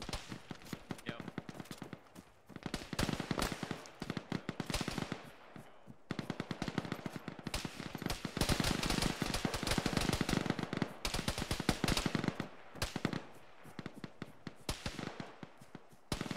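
Machine gun fire in the Arma 3 video game, in long, rapid rattling bursts broken by short pauses, crackling sharply and fairly close throughout.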